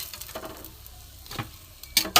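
A healthy children's tiffin snack fries in a little oil with a soft, quiet sizzle, broken by light scraping and clicking from turning it in the pan.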